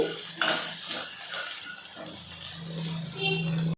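Broad bean tails sizzling in hot oil in a pan for chutney, a steady loud frying hiss close by, with someone talking over it.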